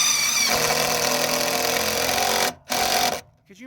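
A power drill drives screws to fasten a camper box onto an old trailer frame, a close, steady motor whine running continuously before cutting off twice in quick succession.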